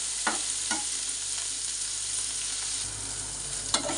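Chopped onion frying in a pan makes a steady sizzle, with a few soft scrapes of stirring and no talk.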